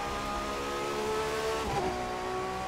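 A Ferrari FXX K race car engine in The Crew 2 video game roars at high revs in a continuous, buzzing drone, its pitch shifting briefly as it accelerates, loud and close.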